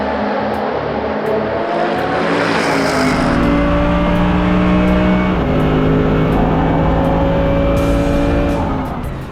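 A loud naturally aspirated V8 race car engine roars steadily at close range during the 4 Hours of Barcelona European Le Mans Series race, its pitch climbing through gear changes with brief drops between shifts, no voices.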